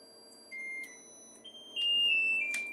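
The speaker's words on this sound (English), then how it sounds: "That's our timer." A kitchen timer beeps in a home kitchen during mac and cheese prep, with a few short high tones followed by a longer, louder sustained beep, clear over a quiet room.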